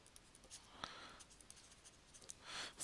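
A pen scratches across paper as someone writes out a solution from a table by hand, with faint, close, irregular strokes and taps in a quiet room.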